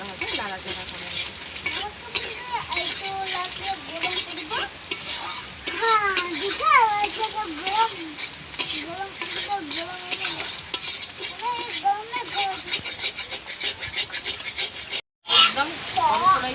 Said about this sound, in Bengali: আমি ভালোভাবে নাড়াচাড়া করে নেব